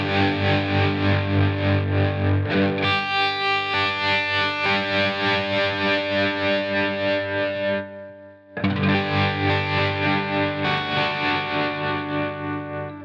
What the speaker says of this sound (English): maybe I'll set this to 8th notes, bring my intensity down, and have something like a sine wave, and we would get something like this.